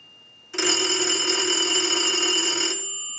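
A payphone's bell rings steadily for about two seconds after being triggered from a line analyzer during a three-slot payphone repair and conversion, a clear, continuous electric ring that starts and stops abruptly with no talking.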